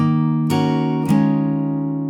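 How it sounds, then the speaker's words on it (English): Acoustic guitar sustaining a barre chord, struck twice in quick succession, each strum ringing on with steady harmonics rather than cutting off, played alone with no talk. "On the 4 beat, we'll just drop our hands onto the strings and mute."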